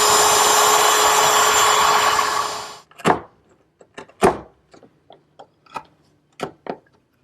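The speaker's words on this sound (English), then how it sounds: "I'll remove the material with a 3/8 inch straight cutting bit, freehand" A router with a 3/8 inch straight bit, run freehand to cut mortises in walnut, whines steadily for about three seconds and then stops. A series of scattered knocks and taps follows.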